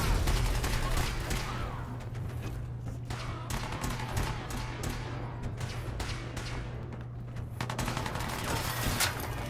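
Gunners fight each other in Fallout 4, with sustained gunfire crackling in rapid, overlapping volleys over a low steady hum, moderately distant and continuous throughout.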